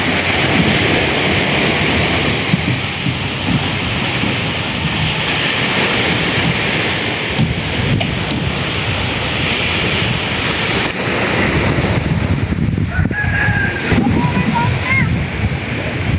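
Steady roar of waves washing onto a shore, continuous and fairly loud, with voices talking faintly underneath.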